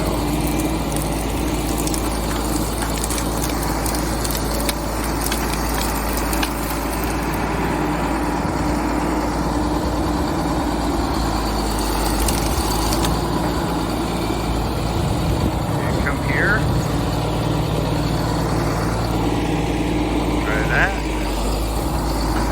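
A bulldozer's diesel engine rumbles steadily and close for the whole stretch, deep and unbroken, with faint voices now and then underneath.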